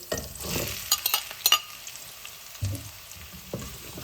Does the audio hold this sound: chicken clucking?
no